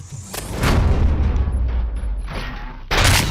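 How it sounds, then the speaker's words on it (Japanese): Gunfire in the video game RoboCop: Rogue City, loud booming shots with heavy low rumble, one at the start, a sustained blast-filled stretch, then another sharp burst near the end, with no talking. "銃声？"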